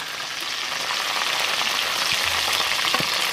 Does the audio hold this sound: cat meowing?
no